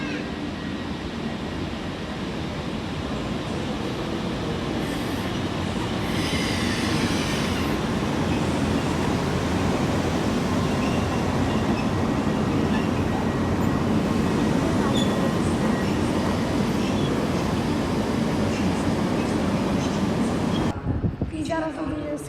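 EU08 electric locomotive hauling the TLK Galicja train at Kraków Główny station, a steady loud rolling rumble and rail noise that holds for about twenty seconds, then cuts off abruptly.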